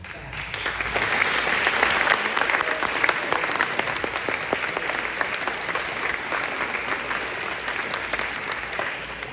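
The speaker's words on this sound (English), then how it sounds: "if you ladies and gentlemen wouldn't mind giving a round of applause to our amazing staff" Sustained, loud applause from parents and grandparents at a high school academic awards ceremony, many hands clapping steadily and evenly from start to finish.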